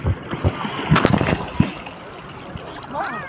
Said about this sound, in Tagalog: Ang alon.